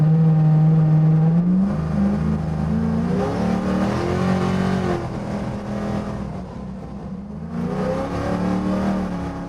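A 1967 Ford F100 pickup with a supercharged Coyote V8 under way, its engine holding a loud, steady drone close up, with the pitch rising and falling as the throttle changes.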